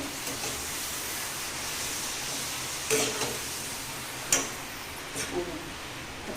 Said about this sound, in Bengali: এক একটা করে পাপড় ভেজে নেবো